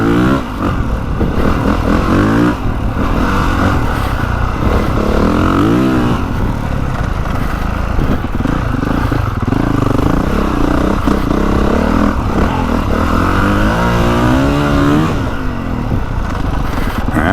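A 2025 Honda CRF450R motocross bike roars loudly and close on a dirt track, its engine revving up and down continuously with rising and falling pitch sweeps and some clattering.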